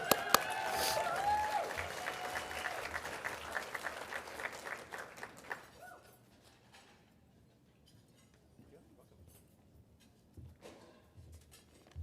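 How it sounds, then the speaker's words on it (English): Applause from an audience at a reading event as a speaker named Patricia is welcomed to the stage: dense clapping with a few clinks of dishes, thinning out and fading to near quiet halfway through, with faint scattered sounds after. "Give her a round of applause"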